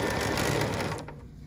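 A Bernina sewing machine runs a basting stitch, a steady rapid mechanical whir that is loud and close for about a second before quickly tapering off.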